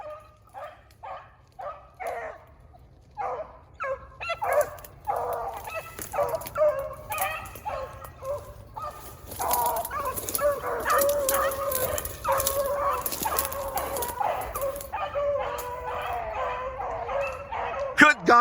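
A pack of beagles bays and barks excitedly in a continuous chorus while chasing a rabbit, with people talking over the noise outdoors.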